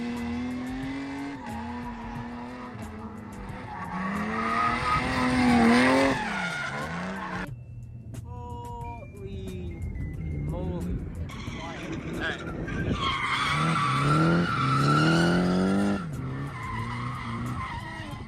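A Nissan S14 spins out with tires skidding and squealing in long wavering screeches, loud and nearby, alongside engine noise and people talking.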